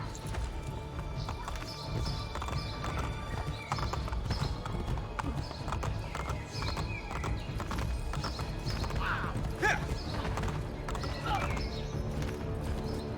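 Horse hooves clip-clop rapidly in Assassin's Creed: Brotherhood, a steady galloping rhythm with occasional whinnies, under ongoing talk.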